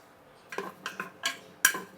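Ginger dry roasting in a pressure cooker pot, a few quiet scraping and clinking stirs of a utensil against the metal, soft and close with short gaps between strokes.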